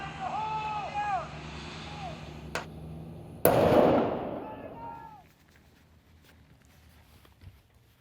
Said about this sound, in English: Fire in the hole! Fire in the hole!